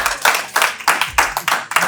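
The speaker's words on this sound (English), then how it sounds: "Give him a round of applause." A round of applause for a racer at a Formula 1 driving experience: several bursts of hand clapping in quick rhythmic waves, close and fairly loud, with no talk.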